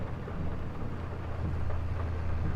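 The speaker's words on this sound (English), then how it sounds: "Yes, so the rain just started coming down." Steady downpour with a deep thunder rumble in the Farming Simulator 22 video game, a constant wash of rain under a low, rolling storm, with no speech.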